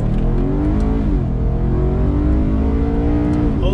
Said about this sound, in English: Wow, it just wants to rev out